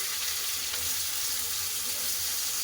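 Cauliflower and carrot sizzle loudly in hot oil, a dense steady frying hiss close up with no voices.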